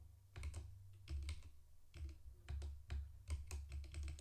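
Steady bursts of typing on a computer keyboard during a coding session, clustered keystrokes clattering close and fairly loud with short pauses between runs, no talk over them.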